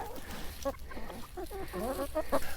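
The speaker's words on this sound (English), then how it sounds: "I have 14 chickens." Backyard chickens in a flock of fourteen, including a white rooster, give soft, scattered clucks and short calls at close range over a quiet background.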